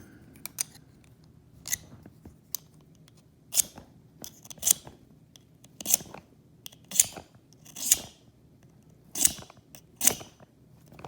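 A survival kit striker scraped along its curved serrated edge, about ten short rasping strokes in a loose rhythm, close and fairly quiet with no talking.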